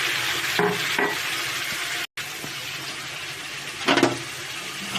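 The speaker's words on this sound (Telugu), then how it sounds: "సొరకాయ ముక్కలు కూడా వేసేద్దాం." Bottle gourd pieces drop into a pan of frying onions and turmeric, giving a steady close sizzle with brief stirring and clattering bursts, and no talking.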